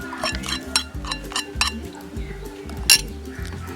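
A utensil stirs a photosynthetic bacteria fertilizer mixture in about three litres of water, giving repeated rhythmic clinks and scrapes against the container, close and fairly loud.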